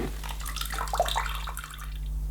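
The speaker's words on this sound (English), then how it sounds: "you can dispose of the dirty water down the drain, sink or loo" Dirty water from the tank of a Numatic Henry Wash floor cleaner pours and splashes steadily into a drain, close and continuous with a low mains hum underneath.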